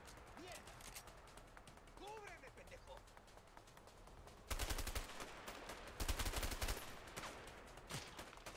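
Bursts of automatic gunfire in A Way Out rattle in two loud, rapid volleys, with scattered single shots before and after, while people talk quietly underneath.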